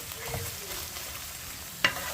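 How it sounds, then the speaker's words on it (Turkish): Steady sizzle of tomato paste frying in a pan with soft scraping of stirring, then a sharp clink of utensil against metal near the end. "salçalarımızı da verelim. Kokusu çıkana kadar şöyle bir iki tur çevirelim."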